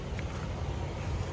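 Strong wind at a beach roars and buffets the microphone as a steady, loud rumble that fills the short moment, with no other clear sounds.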